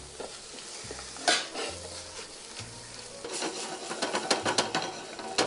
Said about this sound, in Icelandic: Tek aðeins soði hérna og sitt út á pönnuna.